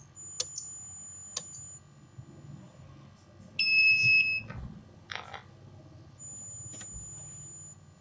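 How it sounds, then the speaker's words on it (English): Arduino home automation motion alarm going off in short electronic beeps: a few brief chirps, then a louder, steady tonal burst of about a second, followed by more scattered beeps over a low background hum. "If some motion is detected at night, it will switch on the alarm."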